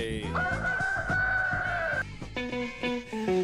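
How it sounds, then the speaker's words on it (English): A rooster crows loud and close in one drawn-out call, followed by a few shorter broken notes, with no talk. "Rooster, baby."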